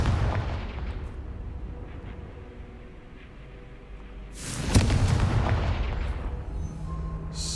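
A booming fireblast from the Confringo spell in Hogwarts Legacy erupts around the midpoint, a loud explosive burst rising over a steady rumbling background and then trailing off.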